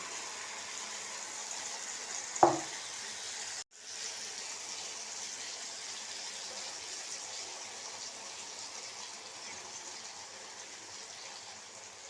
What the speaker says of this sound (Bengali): ফ্রাই প্যান গরম হয়ে গেছে, এবার ডিমটাকে আমি ঢেলে দেবো।